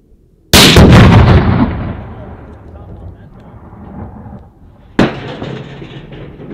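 300 PRC Thompson Center Encore rifle clamped in a vise and blowing up, a sharp, very loud blast that rumbles and fades, followed by a second loud report a few seconds later, heard outdoors.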